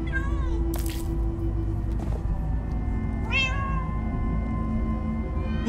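Several cats meowing in Minecraft Story Mode, high drawn-out mews rising over a steady hum of game music, one near the start and another around the middle.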